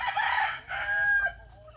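Hens at a backyard poultry feeding crow and cluck in two bursts, close and fairly loud, with no talking.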